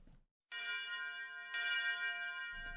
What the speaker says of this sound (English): A bell rings far away.